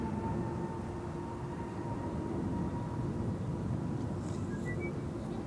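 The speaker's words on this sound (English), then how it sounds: "Sky Express A320neo to Heraklion in Greece, spooling up in the meantime, next to the port." A Sky Express Airbus A320neo bound for Heraklion spools up its jet engines at Amsterdam Schiphol, a steady broad roar with a faint sustained tone, continuous and fairly distant throughout.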